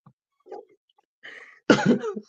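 A person coughs several times, a couple of faint short hacks at first, then one loud, harsh burst close by with a rough tail, no talking.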